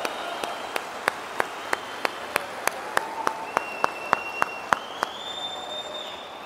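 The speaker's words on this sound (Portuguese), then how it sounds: "Uma salva de palmas para essa turma." Sparse, evenly spaced claps from an audience in a packed arena or gymnasium at a large motivational seminar, sharp single hand claps in a steady rhythm over a soft crowd murmur, with a faint tone drifting in near the end.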